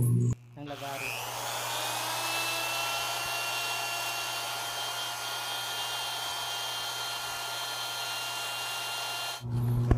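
Steady high-pitched rasping of a steel hacksaw blade being used as a file to sharpen a bicycle pedal, continuous and close for nearly the whole span, stopping abruptly near the end.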